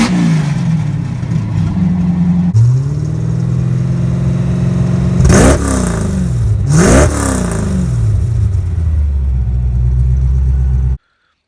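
V8 engine of a 1987-93 Ford Mustang through a Flowmaster Flow FX straight-through exhaust: a loud, deep idle that swells into two sharp revs and settles back to a burbling idle before cutting off.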